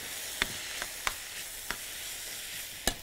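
Onion, garlic, chili peppers, green peppers and tomatoes fry in oil with a steady close sizzle, broken by several sharp pops and crackles; no one speaks.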